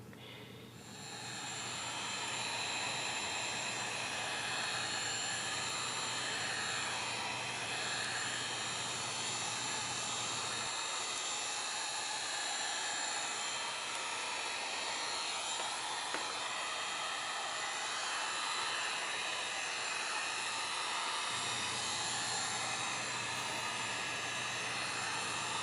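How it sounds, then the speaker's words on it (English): A hot air tool heats an iPad 2 screen, a steady, loud, continuous blowing hiss that starts within the first two seconds and runs unchanged to the end, with no talking over it. "Pretty much I'm just heating up the iPad screen."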